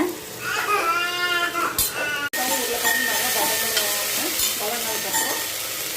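Tomato, brinjal and potato pieces frying and being stirred in a pan for chutney, a steady close sizzle with scraping stir strokes, under a voice that talks and a brief sharp clatter partway through.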